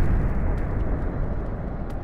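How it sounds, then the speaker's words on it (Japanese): In a Japanese voice drama set in a city district, an explosion sound effect roars as a loud, dense, low rumble that holds steady for about two seconds. No one speaks over it. "なんだ今の爆発は。"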